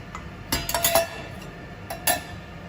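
Eggs, egg yolks and sugar mixed together in a bowl for chocolate fondant, heard as a few quick clinks and taps of utensil against the bowl in short bursts, near and fairly quiet.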